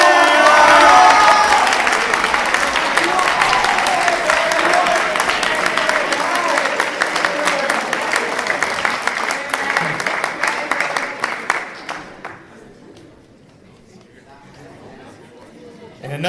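Audience at a reading contest awards ceremony applauding and cheering for a finalist, a dense wash of clapping with crowd chatter that runs for about twelve seconds and then drops away to quiet room noise.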